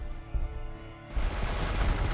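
Flamethrower fire in the strategy video game Warhammer 40k Gladius, a harsh roaring whoosh that surges loudly after a quieter tonal hum and holds steady to the end.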